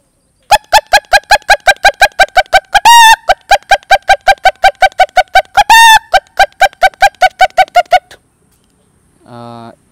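A human voice imitates a hen's startled alarm call: a loud, close, rapid run of sharp clucks, broken twice by drawn-out squawks, then falling silent.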